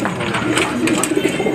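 Racing pigeons cooing at a race loading station, soft repeated throaty coos close by, mixed with people talking in the background.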